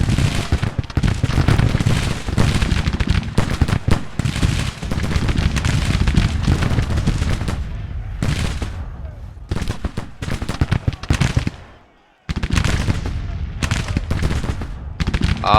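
Musket volleys and cannon fire crackle and boom in a Civil War video game battle, dense and continuous with brief lulls, loud and close, with speech mixed in at times.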